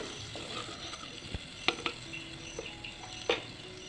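A spoon stirs passion fruit pulp into spice powders for pickle, making soft wet scraping and a few sharp clinks against the pan, close and fairly quiet.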